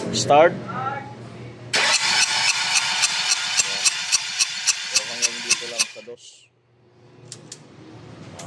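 Chevrolet Spark engine, just overhauled after overheating, cranks with a steady rhythmic whirr for about four seconds with a compression test gauge attached, then stops, with talk before and after.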